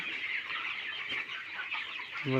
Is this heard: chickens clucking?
yes